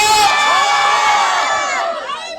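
A large crowd at a village fair whoops and cheers loudly, with many overlapping raised voices in a sustained, dense roar that eases slightly toward the end.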